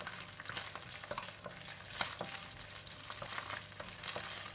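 Garlic and spices sizzle and crackle in hot oil in a pan for a chicken curry, with a spoon or spatula scraping and clinking as the mixture is stirred, close up and continuous.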